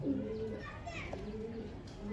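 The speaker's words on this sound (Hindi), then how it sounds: "ये चीनी कबूतरी है।" Soft, low cooing of a female Chinese pigeon repeats in a steady murmur, close by at a pigeon club in Karachi, with faint background chatter.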